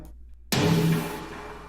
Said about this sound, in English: I have space to use some pretty intense delay on the snare.